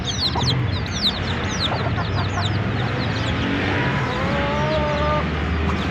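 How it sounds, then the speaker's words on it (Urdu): Domestic hens at a small home farm cluck steadily, with a rooster-like call and chirping birds mixed into the busy, close farmyard din throughout. "یہ بھی میرے گھر کی مرغی ہے"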